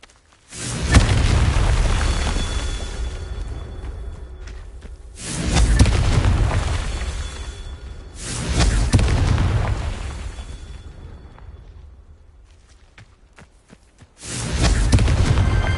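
Repeated booming fiery blasts from the Confringo spell in Hogwarts Legacy, four loud rumbling explosions spaced a few seconds apart, each swelling and slowly decaying, with no talk.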